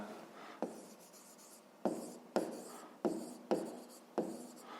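Handwriting a fifth-grade math answer with pen on paper, heard as a series of distinct scratching strokes in bursts, each starting sharply and trailing off, close and alone without talk.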